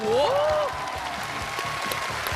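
A studio audience at a televised memory challenge breaks into applause, a dense wash of clapping that starts loudest after a short whistle-like sweep and then carries on steadily.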